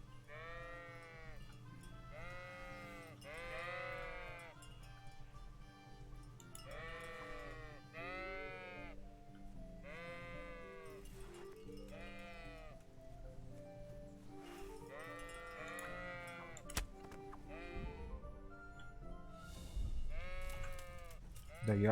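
Sheep in the video game Kingdom Come: Deliverance bleat repeatedly near a sheepfold, a run of loud, quavering calls coming every few seconds over a constant low background drone, with someone speaking briefly at times.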